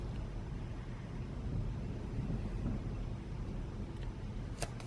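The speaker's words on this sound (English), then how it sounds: "It's kind of windy out there." Steady wind rumbles and buffets outdoors, a continuous low roar with no voices, plus a faint brief click near the end.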